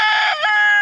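A rooster among a flock of about a hundred farm birds crows briefly and loudly up close, a short harsh call with a break in the middle.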